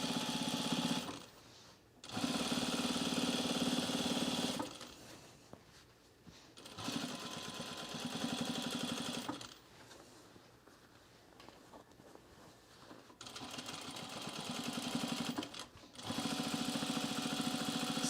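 A sewing machine stitches in the ditch across a large sewn rug, running in several long loud bursts with brief pauses between them.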